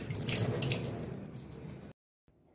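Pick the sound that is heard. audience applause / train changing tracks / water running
water running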